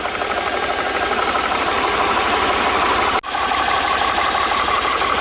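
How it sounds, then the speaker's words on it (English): An Air Venturi Nomad II portable air compressor runs loud and steady, a dense continuous mechanical drone with a rapid pulsing beat, interrupted by one brief near-silent dropout before resuming at full level. "we're going to hit the on button and the compressor will kick on"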